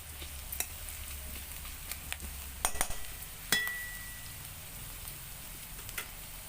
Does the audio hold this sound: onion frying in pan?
yes